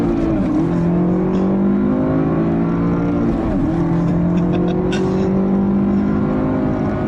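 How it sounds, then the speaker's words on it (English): A 2015 Cadillac ATS Coupe with a 2-liter turbo and six-speed manual accelerating hard with traction control off, engine droning loud and close through rising revs, with a brief dip at each shift before climbing again. "Turn off the traction control and see what this 6-speed 2-liter turbo can do."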